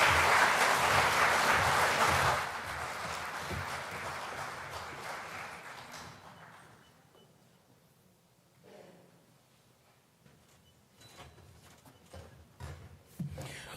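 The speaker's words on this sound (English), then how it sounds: "a round of applause again for our esteemed Prime Minister, the Honourable Philip Davis" Audience applause at a conference of Caribbean chief justices and heads of judiciary in Nassau, loud and dense for about two seconds, then tapering into scattered claps and room noise before a brief swell near the end.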